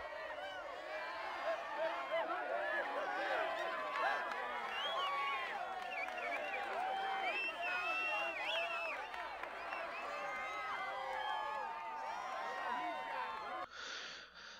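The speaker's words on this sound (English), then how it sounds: "I guess the crowd wanted to see you." Crowd noise at a street race in the Need for Speed Underground video game, a dense, steady wash of many voices and cheers that stays loud and continuous throughout before cutting off abruptly near the end.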